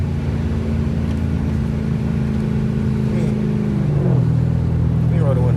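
A Dodge Charger pulls hard under acceleration from inside the cabin, its engine droning steadily with a whine layered over the low rumble, the pitch shifting as it climbs through the gears.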